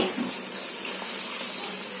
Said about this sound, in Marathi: आता त्याच्यामध्ये एक पेला पाणी ओतते